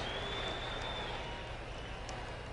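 Dallas arena crowd roaring and cheering after Spud Webb's dunk in the 1986 NBA Slam Dunk Contest, a dense, sustained wash of loud crowd noise with no clear single voice.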